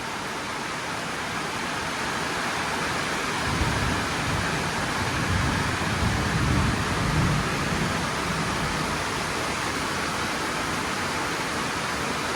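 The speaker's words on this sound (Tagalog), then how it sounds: "Ang lakas ng ulan." Heavy rain pours down in a steady, dense hiss, with a faint low rumble swelling midway, continuous and loud throughout with no voices.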